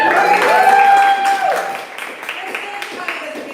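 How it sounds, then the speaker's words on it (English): An audience at a poetry reading cheers and claps for Chicago in a short, loud burst of applause mixed with voices, then fades to a murmur. "You can cheer for Chicago whenever it's mentioned."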